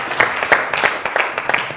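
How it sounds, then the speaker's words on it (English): Applause rings out from a school quiz competition audience, a dense wash of claps with loose rhythmic peaks, fairly close and steady for under two seconds. "Let's give a huge round of applause to Shaq."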